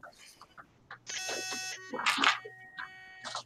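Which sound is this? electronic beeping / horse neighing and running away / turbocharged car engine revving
electronic beeping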